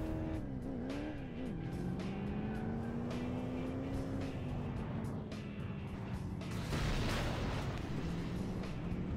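Vehicle explosion in the Crash Time racing game, a sudden loud broadband burst near the end over a steady car engine drone with tire squeal and skidding.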